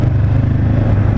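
A voice imitates the engine of a 2019 Honda CB 500 F motorcycle, a loud, steady low rumbling drone held close to the microphone for about a second.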